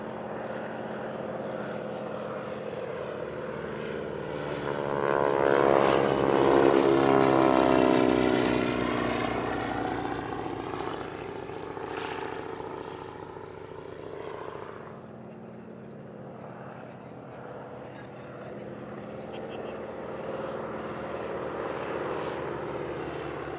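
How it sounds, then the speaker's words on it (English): Highly modified Boeing Stearman biplanes carrying wingwalkers at an airshow, their propeller engines droning loudly as they pass overhead, swelling to a peak and then easing off into a more distant hum. "And now the Aero Supermatics wingwalkers with their highly modified Boeing Stearmans"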